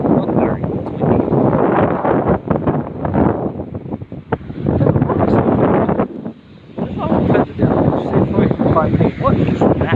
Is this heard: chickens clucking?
no